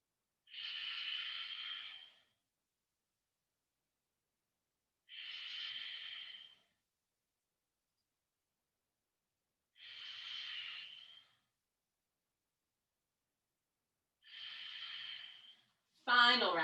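Slow, deep yoga breaths, each a long airy exhale of about two seconds, repeated four times with long silent pauses between, close and quiet, ending with a brief sharper breath.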